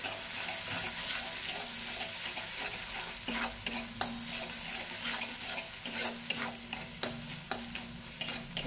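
Whole spices sizzle in hot ghee for papaya korma, a steady frying hiss with scattered crackles and occasional stirring clicks, close and continuous with no voices.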